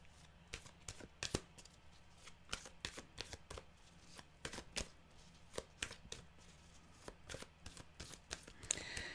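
A deck of tarot cards being shuffled close up: quick, crisp riffles and slaps in an irregular run of bursts, fairly quiet and with no voices over them.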